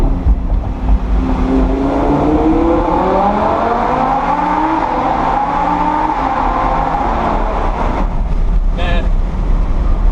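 A Lamborghini Huracan engine roars steadily in a tunnel, its pitch sweeping upward as it revs, with a reverberant, enclosed echo throughout.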